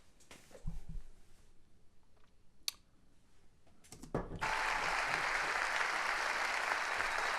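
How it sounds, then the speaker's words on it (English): Applause breaks out after a few seconds of quiet room noise and scattered clicks, then holds as a steady loud wash of crowd clapping to the end. "Wow. Okay, a lot of applause."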